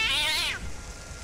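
A cat in the 9 Clues: The Secret of Serpent Creek video game gives one short, loud, close meow that cuts off abruptly over a soft rain-like background.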